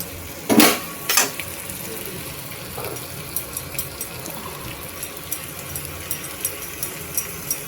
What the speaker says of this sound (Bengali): পেঁয়াজগুলো আমার সুন্দর ভাজা ভাজা হয়ে গেছে।